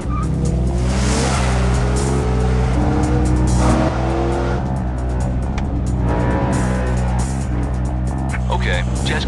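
A 2008 BMW M3 sedan on a test run, its engine droning loud and steady with a strong low hum throughout, heard close up without interruption.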